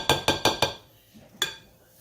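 Eggs being broken up in a bowl before whisking for a meat loaf, four quick sharp clinks in a row followed by one more after a pause, close and alone.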